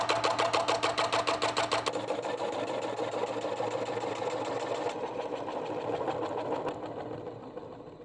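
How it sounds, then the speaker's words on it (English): A wood lathe spins an aspen log platter with curly grain in the bowl area, giving a steady loud mechanical whir with a rapid pulsing rhythm at the start, then a continuous rough hum as cutting goes on, close and alone. "let's head back over to the lathe and finish up that platter"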